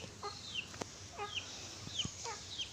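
Domestic chickens cluck softly around a house yard, a faint, regular series of short clucks repeating about every half second, with light knocks in the background.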